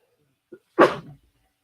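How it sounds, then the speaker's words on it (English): A single close sneeze, preceded by a quick sharp intake of breath, in an otherwise quiet room. "Oh, I can feel a sneeze coming."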